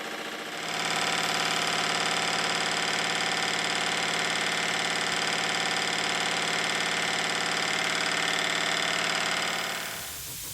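A model steam plant built around a rebuilt Stuart 10V steam engine runs steadily on its own, a constant mechanical hum and fast rhythmic beat fading in and out at the ends, with no voices.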